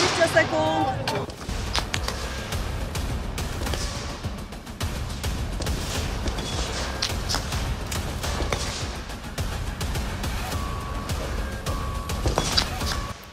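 Final shots fired in the closing seconds of a Lekka Piechota 2025 shooting competition: scattered loud reports and impacts over continuous outdoor noise and movement, firing steadily to the end.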